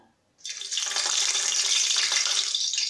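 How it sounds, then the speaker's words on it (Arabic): Lemon peel drops into hot oil and sizzles at once, a loud, steady, close hiss that holds without a break and is heard alone. "الزيت خلاص اهوت. هنزل بقى بقشر الليمون ده"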